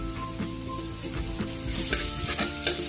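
Chopped onion goes into a hot pan beside a pot of sinabawang pork ribs, giving a steady close sizzle with scraping stirs and soft knocks of a utensil, building louder toward the end.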